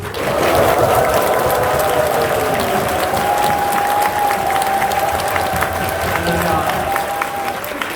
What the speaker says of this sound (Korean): 환호성을 지르면서 박수로 모시겠습니다.